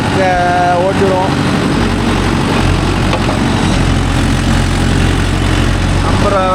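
A Mahindra Yuvo Tech Plus 585 4WD tractor engine runs with a loud, continuous low rumble close by, with a voice heard briefly near the start and end.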